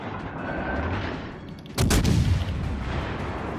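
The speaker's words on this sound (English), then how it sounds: "Those shots aren't gonna reach, but I'm just gonna shoot him over there because I can" Naval gunfire in the World of Warships: Legends video game: one heavy, booming salvo bursts out about midway through, louder than the constant rumble of battle noise around it.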